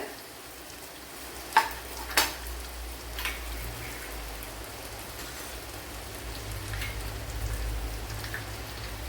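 Fish shallow-frying in a pan, a soft, fairly quiet sizzle that crackles on steadily, with a few sharper pops and spatters near the start.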